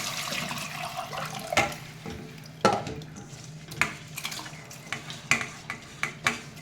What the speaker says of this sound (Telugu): ఇది డైరెక్ట్గా వేసేస్తున్నానండి వాటర్ అన్నది.